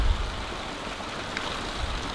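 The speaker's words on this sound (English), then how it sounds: "it's just tipping it down with rain." Heavy afternoon rain pours down steadily outdoors, a dense uniform hiss of drops on surfaces with no break for the whole stretch.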